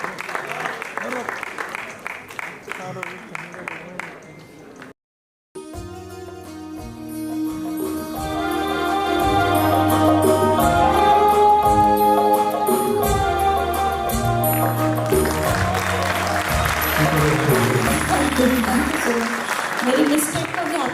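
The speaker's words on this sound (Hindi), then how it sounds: "जोरदार तालियां।" An audience at a musical night claps briskly for about five seconds, then after a brief silence music starts up loudly, with applause swelling again beneath it toward the end.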